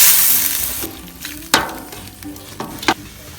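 Hot oil sizzles steadily in a pan as chili-powder water is poured into frying village-style chicken curry, while a utensil scrapes and clacks against it in a few sharp strokes.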